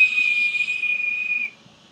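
Airflow through a vape device on a strawberry and banana e-juice produces a loud, steady high-pitched whistle that holds for about a second and a half before stopping abruptly.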